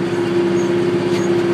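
A McCormick tractor's Yanmar diesel engine idles with a steady low hum and a firm tonal drone, continuous and close, without talk.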